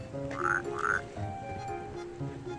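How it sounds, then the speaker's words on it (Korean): A frog croaks twice in quick succession, two short, close, fairly quiet croaks, then only faint background ambience. "여기 개구리가 있다는 제보를 받고 왔습니다"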